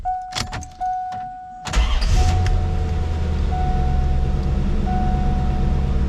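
A C4 Corvette, just fitted with a new fuel pump, cranks and fires up after a few chimes and clicks, then settles into a loud, steady idle with a low rumble that continues for several seconds.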